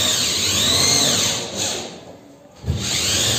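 Power tool driving fasteners into a gypsum board ceiling border, a loud, close whirring burst that dips briefly and then surges again.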